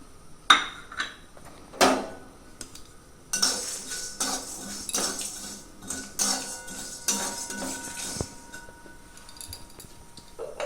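Black peppercorns, cinnamon and spices get dry-roasted in an empty pan, with a string of metallic clinks, scrapes and rattles of the spoon against the pan, close and irregular, with no talking.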